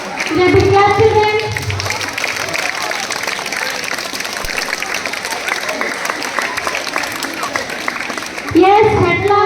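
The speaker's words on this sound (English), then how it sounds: "Big clap, children." Schoolchildren at a Teachers Day celebration clap together in loud, dense applause that fades into background chatter midway, then swells again near the end, with voices speaking over parts of it.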